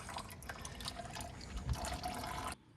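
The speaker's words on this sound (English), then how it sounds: "the engine is draining that watery oil, not water in the oil, just watery oil." Watery oil drains from a tractor engine, a thin steady trickle and drip of liquid heard faintly up close, stopping abruptly near the end.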